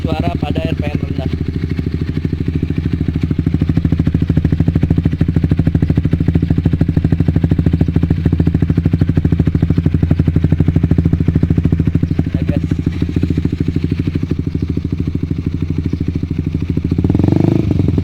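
A Honda CB150R motorcycle fitted with a Pro Liner TR-1 carbon long exhaust runs at low RPM, a loud, steady, close burbling throb that carries on evenly for the whole stretch.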